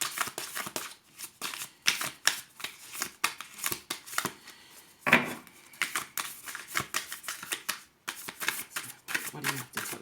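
Tarot cards are shuffled by hand in rapid, crisp riffling bursts with short pauses between them. The sound is close and moderately soft, and a brief louder flutter comes midway.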